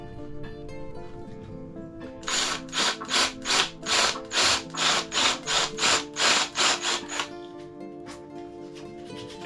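A power tool cuts a small notch in wood: about a dozen evenly spaced, loud rasping bursts in a steady rhythm, over a continuous motor whine that runs before and after the cuts.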